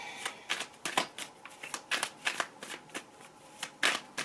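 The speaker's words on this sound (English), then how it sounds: "I'm going to pull some more cards" Tarot cards being shuffled, a close, quiet run of quick riffling bursts in an uneven rhythm, about a dozen short flicks with no talk.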